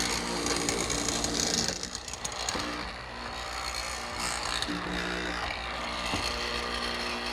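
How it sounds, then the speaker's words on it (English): A mortiser with a half-inch square chisel and a center drill bit cuts into wood, its motor whining steadily as the bit plunges and chews through the workpiece in repeated passes. "this is just a 1/2-inch square chisel with a drill bit in the center"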